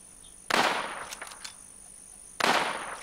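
Two sharp gunshots ring out about two seconds apart in the online survival shooter Infestation, each with a broad burst that rings and fades, and some faint scattered pops in between.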